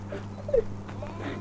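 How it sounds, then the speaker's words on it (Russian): A puppy with a freshly docked tail gives a short, faint whimper with one brief higher yelp in the middle, over a low steady background hum. "Это ведь собака. Поскулит и перестанет."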